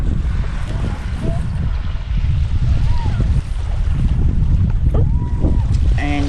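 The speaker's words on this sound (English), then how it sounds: "it's a bit windy today, on and off." Gusty wind roars against the microphone on a shell-covered beach, a loud continuous low rumble that rises and falls, with faint speech in the background.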